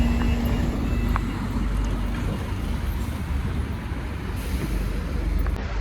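Inside a busy London route 205 bus, a loud, steady low engine rumble and road noise fill the cabin, with faint hisses and rattles and no clear talk.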